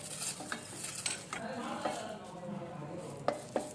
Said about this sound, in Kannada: ಸ್ವಲ್ಪ ಫ್ರೈ ಮಾಡ್ಕೊತೀನಿ, ನಾನು ನೀರಂಶ ಹೋಗಲಿ ಅಂತ.